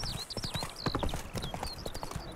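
Roach the horse trotting in The Witcher 3, a brisk steady clip-clop of hooves close by, with faint bird-like whistles and game ambience around it, no speech.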